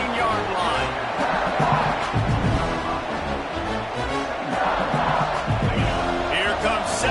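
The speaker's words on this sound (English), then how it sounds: "this crowd is turning it up a notch" A stadium crowd in the College Football 26 video game roars and cheers steadily throughout, a dense, continuous wall of noise under an announcer's commentary.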